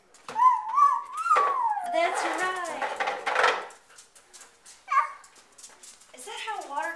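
A puppy dog gives a drawn-out, wavering howl-like whine with rising and falling pitch, close and fairly loud, followed by a person speaking briefly over quieter yelps.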